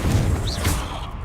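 Confringo fire spell from Hogwarts Legacy striking its target, a loud crashing burst with a sweeping whoosh over continuous game noise, lasting about a second with no talking.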